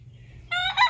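Chickens and guinea fowl mingle outdoors, with a quiet stretch followed by a sudden burst of loud, close squawking calls in the second half of the short moment.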